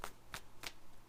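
Tarot cards handled and drawn from a deck: three quick, crisp riffling swishes close by, spaced evenly apart, no talking.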